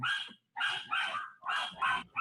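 Small dogs bark in quick, yappy bursts, about five sharp barks in uneven rhythm, moderately close and with no talk over them.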